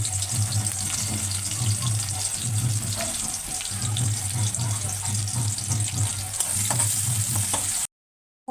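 Chopped onion hits hot oil in a wok, a close, busy sizzle with intermittent stirring scrapes that runs steadily before cutting off abruptly near the end.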